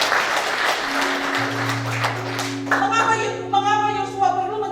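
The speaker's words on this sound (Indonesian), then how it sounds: "Berikan tepuk tangan bagi Tuhan" Church congregation at a Sunday service claps for God in a short burst that tapers off, with a sustained organ or keyboard chord droning underneath and a voice rising over the instrument.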